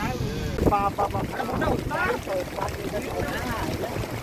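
Gusty wind buffets the microphone in a steady rushing roar during a rainy motorcycle ride on the Konkan coast, with people talking over it throughout.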